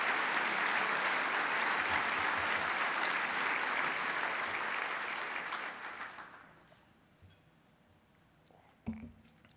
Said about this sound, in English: How about a collective round of applause for all of those that are doing so much?